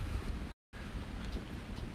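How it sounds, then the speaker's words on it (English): Wind on a windy day by moving water, a steady broadband rush buffeting the microphone with a low rumble and a brief dropout, no voices. "it's a windy day."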